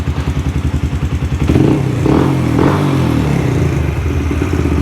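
A Yamaha Raptor 125 ATV engine runs close and loud with a steady, rapid putter, then turns rougher and fuller partway through before settling back into a lumpy idle, with no talking.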